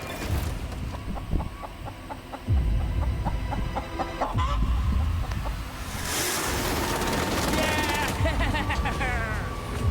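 A freshly caught chicken clucks on an island beach, its calls scattered over loud surf and wind noise, with people talking excitedly nearby.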